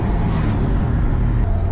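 An 820 hp Porsche 911 Turbo S Brabus cruising in normal mode, heard from inside the cabin with windows up as a steady, loud, low engine and road drone.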